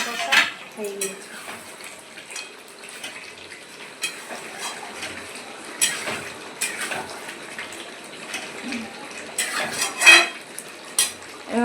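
A lid comes off a pot of village-style chicken kosha, followed by scattered metallic clinks and scrapes of cookware. The sounds are close and fairly light, spread across a quiet kitchen background.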